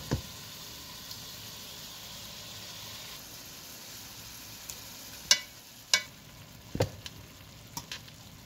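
Beef stew meat searing in a home cooking pot: a steady soft sizzle with several sharper pops and bursts as the pieces settle and shift.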